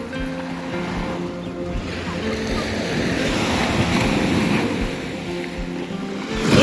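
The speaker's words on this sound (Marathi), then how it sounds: "दूरवर पसरणारा समुद्र" Sea waves on the Konkan coast wash in with a steady broadband roar, loud and continuous, swelling slightly toward the end, with wind buffeting the microphone and no talk.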